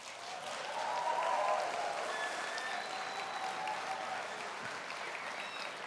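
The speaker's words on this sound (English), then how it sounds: "Please give them a warm round of applause" An audience applauds the Eco-Runner team of Delft as they come up on stage at their 2023 design presentation: a steady, dense wash of clapping from many hands, swelling in the first seconds and then holding evenly.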